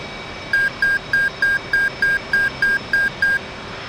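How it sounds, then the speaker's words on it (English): F/A-18 flight simulator beep tone marking the flight control system check as complete: ten evenly spaced short electronic beeps in a steady rhythm, clear and alone. "FCS bit is complete, marked by the beep tone"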